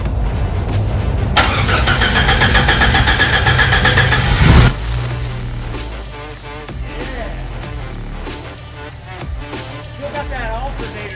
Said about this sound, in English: Still got that alternator squeal